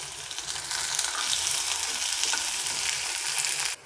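Chopped onion frying with garlic in a hot pan, a steady loud sizzle and crackle throughout that cuts off abruptly at the end, no talking.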